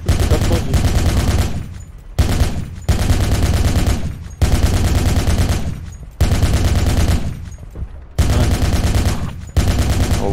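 Automatic gunfire in the Project Reality mod for Battlefield 2 comes in long sustained bursts of rapid, loud shots, separated by short gaps, close and dominant over the game audio.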